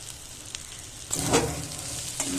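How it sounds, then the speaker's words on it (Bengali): Baim fish eggs frying in a pan, a soft sizzle that grows louder midway as a spatula stirs and scrapes, with no voices. "মাছের ডিমটা কেমন ভাজতে সুন্দর হয়েছে"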